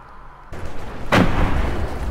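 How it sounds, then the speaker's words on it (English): A friendly artillery shell explodes in the World War II game Hell Let Loose, a sudden heavy blast that erupts after a quieter rumble, followed by lingering rumbling debris. "I think I got killed by friendly artillery"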